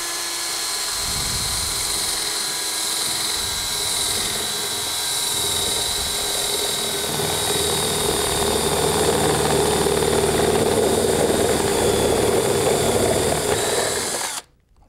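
A drill with a TG Tools Kick Spade bit bores through a brass kick plate, a continuous high whining grind that holds steady and intensifies slightly before stopping abruptly at the end.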